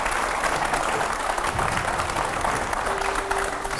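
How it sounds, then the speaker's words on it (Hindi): Studio audience at a televised Hindi panel discussion breaks into loud, sustained applause, a dense continuous roar of clapping from start to end. "और जोरदार तालियों से एक बार फिर से स्वागत करिए।"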